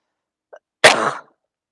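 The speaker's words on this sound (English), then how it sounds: "Oh, I'm going to cough." One short, sharp cough bursts out nearby after a tiny faint sound, then silence.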